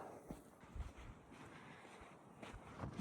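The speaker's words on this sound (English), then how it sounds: "It's really windy" Wind gusting across an open desert rock landscape, a faint low roar buffeting the microphone in uneven bursts, with no voices.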